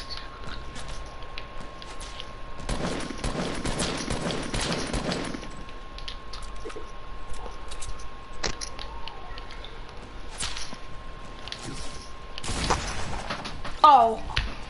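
Video game gunfire including sniper shots: bursts of rapid shots and scattered single cracks, fairly close, under a continuous tone, with players talking excitedly.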